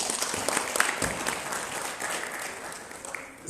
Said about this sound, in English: once again, a big round of applause.